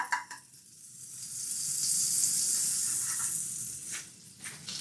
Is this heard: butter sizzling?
yes